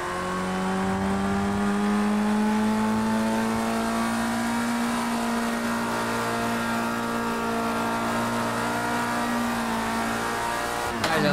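A race car engine in Project Cars 2 holds a high, steady throttle, its loud whine climbing slowly in pitch and then levelling off, close and continuous with a brief rise near the end and no talk.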